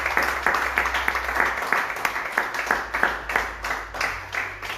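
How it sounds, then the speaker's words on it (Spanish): A church congregation applauding during an evening service, with distinct, rhythmic clapping in a regular beat over a low hum, near and fairly loud throughout. "¿Cuánto le damos un aplauso al Señor en esta noche?"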